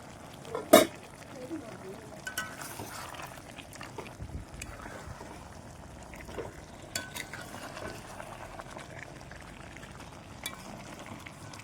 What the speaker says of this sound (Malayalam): ഇനി നമുക്കിത് ഇടയ്ക്കൊന്ന് തുറന്നിട്ട് ഇളക്കി കൊടുക്കാം